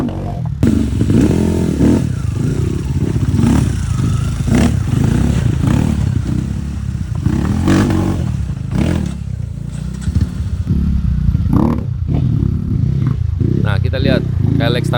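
A Kalex 140 dirt motorcycle on a muddy trail engine roars loudly and continuously, revving and clattering up close, with voices talking over it throughout.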